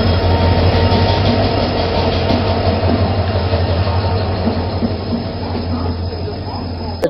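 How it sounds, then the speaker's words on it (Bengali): The Chennai Mail pulls into platform 23 at Howrah station with a loud, close, continuous rumble of wheels and carriages and a low steady hum, softening slightly before a sharp click at the end. "ট্রেন প্রবেশ করলো হাওড়ার 23 নম্বর প্ল্যাটফর্মে"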